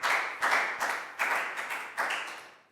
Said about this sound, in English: High five, big round of applause for Pak Bung.